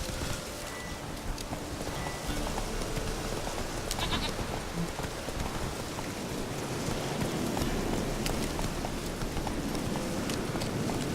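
Goat bleating in the video game The Witcher 3, over a steady bed of rainy ambience and clopping hooves that runs through the whole stretch, with no voices.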